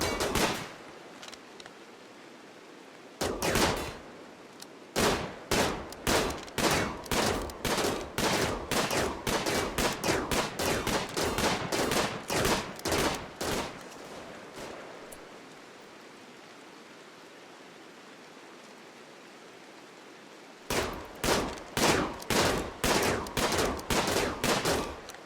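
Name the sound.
gunfire from colonists shooting in video game RimWorld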